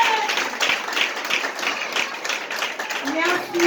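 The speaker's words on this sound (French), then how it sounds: "Je vous prie de l'applaudir, s'il vous plaît." An audience at a community gathering claps warmly for an honored older woman, a steady round of applause with voices talking over it.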